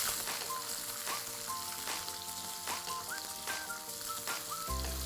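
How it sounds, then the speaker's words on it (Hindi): Garlic, cashews and red bell peppers shallow frying in oil in a pan give a soft, continuous sizzle, with music playing over it and no talk. "जब तक ये शैलो फ्राई हो रहा है"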